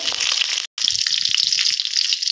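Loud, crackling sizzle of mustard seeds, curry leaves and garlic frying in hot oil for an okra palya, continuous apart from a brief silent cut, with sporadic low thumps.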